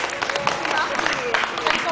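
Audience applause at a marketing crisis summit in the Philippines, honoring a band: a dense, steady patter of many hands clapping in a hall, loud and continuous with small swells.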